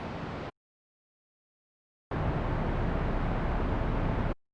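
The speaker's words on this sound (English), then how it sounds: "2 layers of ambience from a parking garage" Parking garage ambience recorded as a layer for a game spaceship idle: two bursts of steady broadband hiss-like room tone, a short one at the start and a longer one after a silent gap, moderately quiet with no voices.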